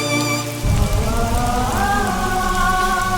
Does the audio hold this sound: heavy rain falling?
yes